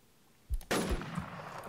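A sniper rifle shot fired in the survival shooter Infestation: Survivor Stories: a short sharp crack followed moments later by a louder blast with a lingering rumbling tail, fairly close and with no talk over it.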